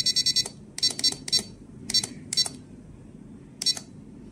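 An RC6GS V3 radio-control transmitter sounds its voltage alarm in short bursts of high electronic beeps, a quick triple cluster followed by irregular double and single beeps, close and clear over quiet background.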